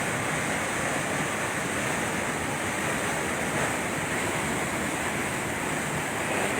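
Steady rushing water from a waterfall pouring over large boulders in Mindoro Oriental, a broad constant roar with no pauses, close and loud throughout.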